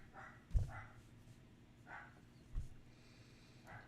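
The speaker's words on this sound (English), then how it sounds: "The dog barking is just loud enough that you guys can probably hear it." A dog barks in the distance at night, a few faint, widely spaced barks over low background hum.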